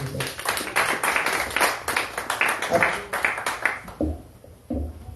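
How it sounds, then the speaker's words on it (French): A church congregation at a Sunday service in Baltimore claps and applauds for the president, a dense, rhythmic burst of many hands that fades toward the end, with a few last claps and voices under it. "On acclame pour le Président."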